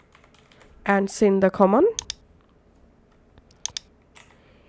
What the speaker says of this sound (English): type here the command